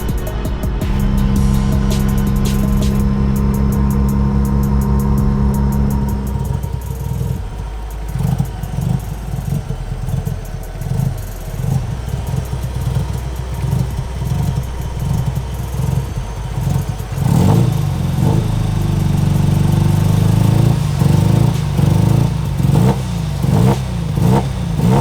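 A drift car engine with a breakup fault revs loudly and unevenly for about 25 seconds, stuttering and popping in a rough, pulsing rhythm before climbing into harder revs near the end.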